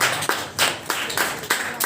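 Small group clapping at a quiz competition after a correct answer, a handful of sharp, fairly loud bursts of claps in a quick, uneven rhythm, close by.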